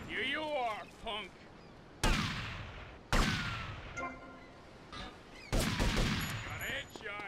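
Gunfire in the video game GTA V, several sharp, loud bursts of shots spaced a second or so apart, with a voice talking between them.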